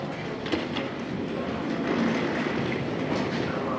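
A train in Warsaw, Poland rumbles past with a continuous roar and faint rhythmic clatter of wheels, close and loud throughout.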